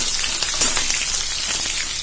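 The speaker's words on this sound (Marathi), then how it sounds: "मिरची परतली आपण थोडा कांदा टाकूया।" Sliced onion hits hot oil with fried green chillies for kanda poha, giving a steady close, dense sizzle and crackle with no pauses.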